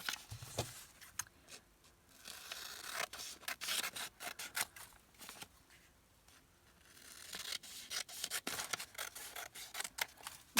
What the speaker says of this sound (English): So if we go ahead and cut it here,